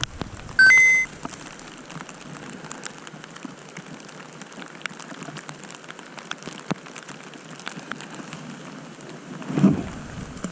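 Heavy rain pours outdoors during a panfish fishing outing, a constant dense patter with a brief electronic beep early on and a low thump near the end.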